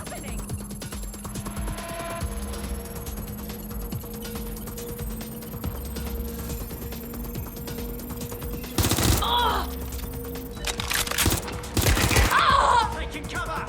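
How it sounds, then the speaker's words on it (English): Gunfire in the video game Watch Dogs: Legion, set in London, with two loud bursts of shots late on over a steady game soundscape of hum and background tones. "Incoming fire!"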